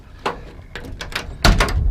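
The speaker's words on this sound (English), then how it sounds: "Just wanted to show you the doors lock." Door locks on a 1974 Volkswagen Thing being worked, a short series of close mechanical clicks and clunks, with the loudest double clack near the end and no talking.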